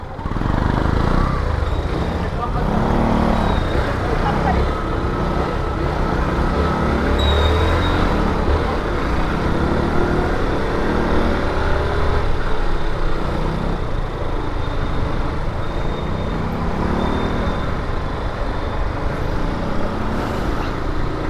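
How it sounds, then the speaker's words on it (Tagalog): Dense rush-hour road traffic in a Philippine street, a continuous loud roar of cars, trucks, buses and motorcycles with no pauses, a faint horn or squeal now and then. "Grabe naman traffic dito."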